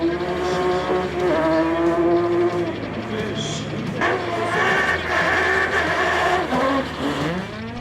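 Race cars roar past at a Trophée Andros ice race at Isola 2000, with loud engines rising and falling in pitch through gear changes. The din is steady and near, and a crowd or announcer can be heard faintly beneath it.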